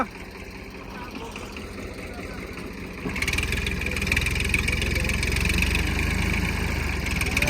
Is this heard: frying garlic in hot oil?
no